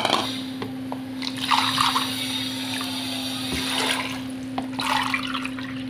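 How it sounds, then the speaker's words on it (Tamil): Water pouring into a pressure cooker holding washed lentils and radish, a steady splashing stream with gurgling swells, close and continuous under a constant low mechanical hum. "தண்ணி இதே கப்பில் 2 கப் அளவு தண்ணி சேர்த்துக்கிட்டேன்"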